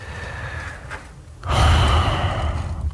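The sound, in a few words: person breathing into a phone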